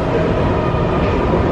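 A train at a station rumbles steadily close by, a loud continuous low drone without speech.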